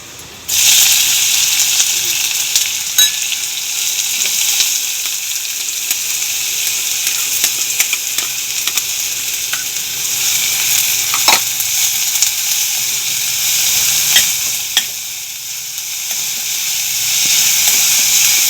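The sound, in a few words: onion frying in a pan for fenugreek bhaji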